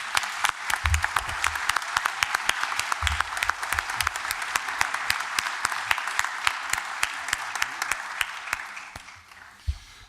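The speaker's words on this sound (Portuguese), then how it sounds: "ele merece uma salva de palmas nesse momento difícil do Brasil" A conference audience at a national arbitration panel gives sustained applause, a dense crackle of many clapping hands that holds steady then thins toward the end, with occasional low thumps.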